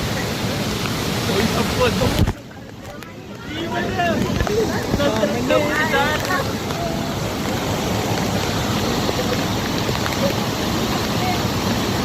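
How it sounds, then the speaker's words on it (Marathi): A huge waterfall in a dense, rainy jungle, a loud steady roar of rushing water that fills the whole clip, with a voice talking over it. "This is a huge waterfall. You can see the sound."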